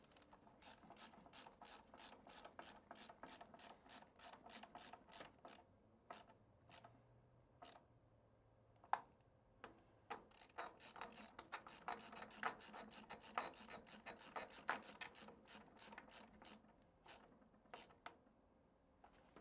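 A ratcheting screwdriver tightens screws inside a gaming PC case during a build, making quick runs of close, crisp mechanical clicks that break into short pauses and then start again, with no talking.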